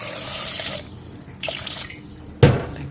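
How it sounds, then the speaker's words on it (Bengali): Water poured into a cooking pot of tomatoes, potatoes and green chilli, heard as a short trickle and drips with a sharper splash near the end, close and fairly loud. "দিয়ে দেব অনুমান মতো জল"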